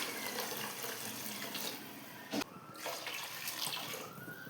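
Water is poured into basmati rice in a pot for vegetable biryani, a continuous splashing stream with a brief sharp break midway, running on without speech.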